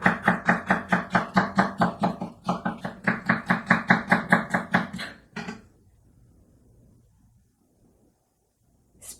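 A knife chops rapidly through onion on a cutting board for Korean water kimchi, about twenty quick, steady knocks in a loud run with a brief pause midway, then quiet room noise.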